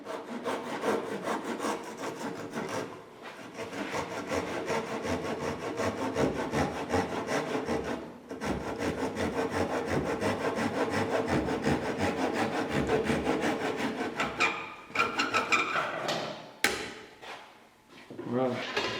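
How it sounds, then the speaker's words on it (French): A Japanese pull saw cuts through a wooden moulding in a steady run of rasping back-and-forth strokes, pausing briefly, then resuming before the final strokes and a knock. "avec la scie japonaise, je peux faire la coupe sur la partie moulure."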